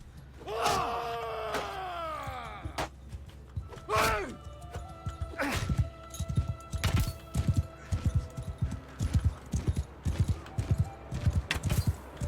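A horse gallops under its rider during horse archery in Mount and Blade 2: Bannerlord. Grunting voices come first, then a steady run of close, rhythmic hoofbeats.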